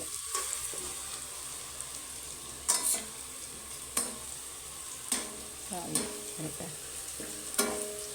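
Onions fry in a pan for a Kerala-style pork curry, a continuous soft sizzle broken by several sharp scraping stirs of a spoon at irregular intervals, close up and with no speech.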